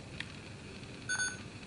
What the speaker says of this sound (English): and you'll hear those beeps again